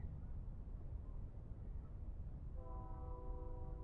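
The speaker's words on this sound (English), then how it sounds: "Yeah, I can hear his horn honking." A railroad train draws near along the tracks under a low continuous rumble, and its horn sounds in the last second or so as a sustained tonal blast over the wind, with no talking.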